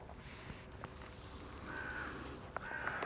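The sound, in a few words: birds stirring in the morning, crow cawing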